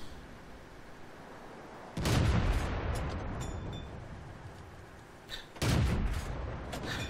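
Two loud tank cannon shots in World of Tanks, fired from a Pz Sfl IVc tank destroyer on the Fjords map, each a sharp booming blast with a long rumbling decay, the second coming about three and a half seconds after the first.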